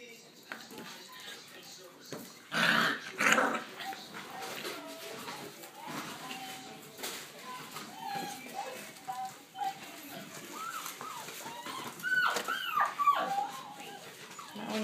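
Several puppies in a kitchen yip, whimper and growl in short scattered bursts, some close and sharp, others softer, while people talk quietly nearby.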